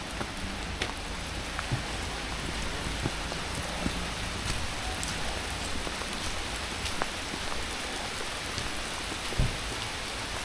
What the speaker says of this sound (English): Look at that rain there, boys.